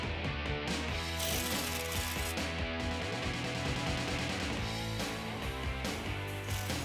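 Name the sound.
ratchet removing upper bolts on Jeep Wrangler JK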